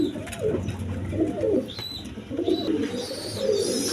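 A pair of American Lahore pigeons coo in repeated soft, throaty phrases, close by and steady, with faint background noise and no talking.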